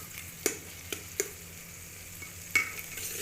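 Tomatoes and spices frying in ghee for a ridge gourd (turai) curry, giving a steady soft sizzle with a few sharp spoon scrapes and clinks against the pan, close and without talk.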